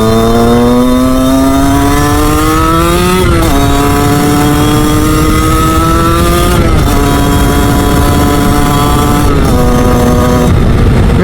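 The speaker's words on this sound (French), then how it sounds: "Il fait 4 degrés, elle a démarré premier coup de kick." 50cc Beta motorcycle idling and revving after a kick start on a cold 4-degree morning, a loud, close two-stroke buzz that rises in pitch and drops back several times.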